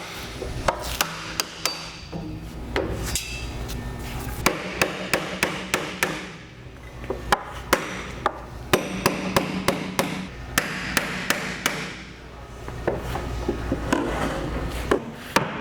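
Repeated hammer blows knock loose the wooden stave of a sauerkraut barrel, sharp woody knocks in uneven bursts with short pauses, close and fairly loud, no talking.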